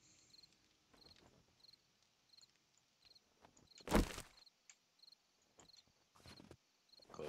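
Crickets chirp steadily through a nighttime scene in a video game, a faint, regular pulsing trill running the whole way, broken by soft footstep-like shuffles and one louder thump near the middle.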